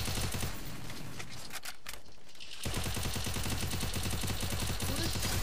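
Rapid bursts of gunfire in Free Fire MAX rattle on almost continuously, pausing briefly before resuming in dense repeated volleys.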